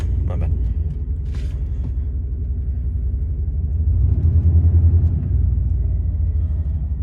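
An old Chevy with freshly rebuilt rear wheels drives off, giving a steady low engine and road rumble that swells briefly midway, heard close from inside the car.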